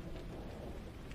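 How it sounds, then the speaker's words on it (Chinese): Heavy rain pours down in a steady, dense roar with no letup. The sound is close and fills the whole short stretch, and no one speaks. "下这么大雨"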